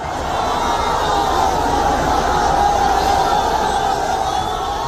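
A huge crowd roars at a Samajwadi Party election rally in Phulpur, a loud, unbroken wash of cheering and shouting voices that holds steady throughout.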